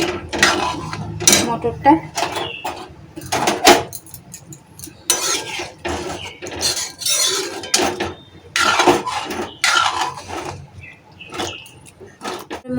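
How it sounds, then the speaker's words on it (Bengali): Spiced boiled peas and potato being stirred in a pan for motor ghugni, giving repeated scraping and clinking of a spoon against metal in irregular bursts, close by, with someone speaking briefly over it. "ভালো করে মিক্স করে নিই মশলাটার সাথে"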